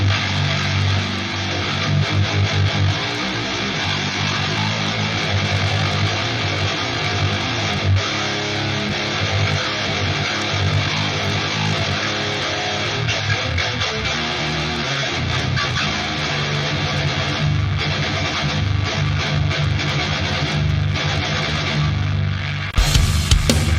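A loud, dense, sustained sound pitched down nine semitones to G plays steadily for over twenty seconds, with a thick low end and a sharp burst near the close.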